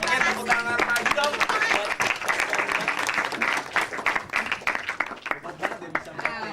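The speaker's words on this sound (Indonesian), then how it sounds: "tepuk tangan lagi dong" Applause from a university orientation audience, a mix of individual sharp claps and crowd noise, with voices and a tonal sound running underneath, lasting several seconds.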